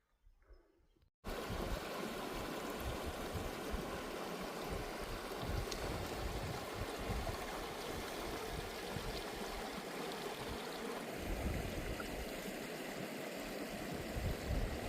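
Steady rushing water of Mission Creek fills the whole scene, a continuous broad wash of flowing creek sound after a brief quiet start, close and fairly loud.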